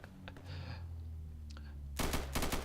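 Gunshots in the shooter game Insurgency: quiet faint clicks first, then a close loud cluster of rapid shots in two short bursts near the end.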